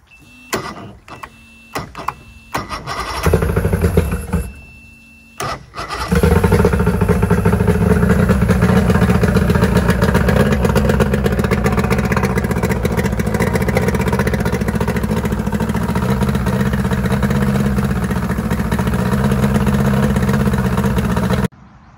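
A fuel-injected engine with custom intakes and cast injector plates behind the throttle bodies cranks in a few bursts, then catches and settles into a loud, steady, rough idle, close up.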